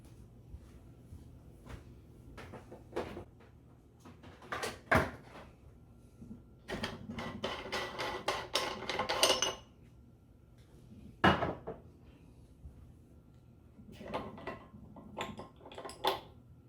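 A meat grinder is pulled apart for cleaning, its metal parts clinking and clattering in a few separate bursts of handling between quiet pauses, close by, with no talking.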